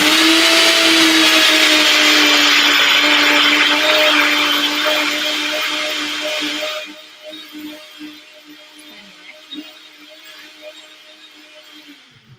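A blender whirring loud and steady while blitzing a salad dressing, running for about seven seconds before cutting off and spinning down, followed by a few light knocks and quiet handling.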